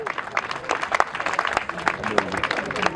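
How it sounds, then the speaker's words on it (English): Wedding reception guests clapping for the photographer in Udaipur, a short burst of scattered, uneven handclaps mixed with chatter and a voice speaking over them. "Let's just have a big clap for him"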